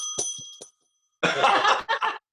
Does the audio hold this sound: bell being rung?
yes